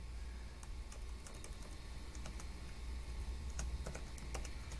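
Computer keyboard typing, a run of light, irregular key taps spread through the stretch, close and fairly quiet over a steady low hum, with no talking.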